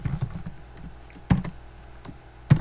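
Fingers type on a computer keyboard, close by, in a soft patter of keystrokes broken by a couple of louder, sharper key presses.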